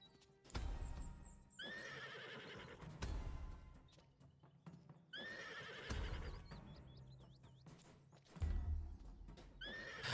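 Video game horses whinny loudly several times in a row, shrill neighs rising over snorts and a few hoof clops, with brief quiet gaps between calls.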